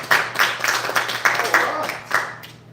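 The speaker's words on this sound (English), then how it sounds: "Everybody, let's give Emily a big round of applause." A small audience at a fishing club's fish-of-the-year announcement claps for a monthly winner, with uneven bursts of hand claps close by that taper off at the end, over a faint steady hum.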